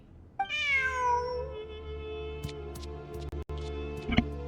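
A single clear, drawn-out cat meow from the video game Genshin Impact rings out close by, followed by quiet clicks and a few brief electronic ticks.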